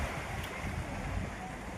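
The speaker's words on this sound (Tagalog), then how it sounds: "Ayan mga bro. Yan. Ang dagat." Sea waves and surf along a shore with a ship out on the water, a constant broad wash mixed with wind noise on the microphone, moderately faint.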